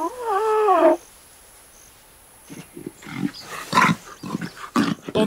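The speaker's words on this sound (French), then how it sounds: "Mon rugissement n'est pas très fort ni effrayant." A lion cub gives a short, wavering, high-pitched roar that sounds more like a squeaky mewl than a true roar. It lasts about a second, followed by quiet and then a run of louder, rougher grunts and growls.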